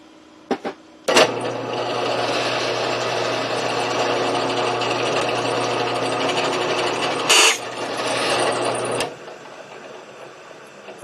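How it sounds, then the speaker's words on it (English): Drill with a cheap non-carbide number 29 bit boring into a steel scope mount for an SKS rifle, a steady loud grinding rasp lasting several seconds, with a brief break partway through before it resumes and then stops. "That sound you hear is the fact that this is a relatively cheap drill bit."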